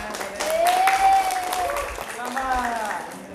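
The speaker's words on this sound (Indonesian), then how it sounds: "Iya, tepuk tangan." An audience claps in a lesson hall after a recitation about fasting, a short burst of applause mixed with voices and a teacher talking over it.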